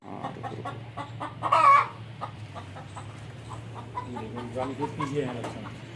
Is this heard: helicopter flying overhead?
no